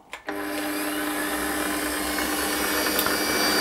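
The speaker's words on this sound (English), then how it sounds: "nice light cuts, and you will get some chatter. That's inevitable in this setup." A milling cutter turning at about 1,000 RPM takes light cuts in an aluminium flywheel. It starts abruptly and then holds a steady, loud, close whine with layered tonal hum.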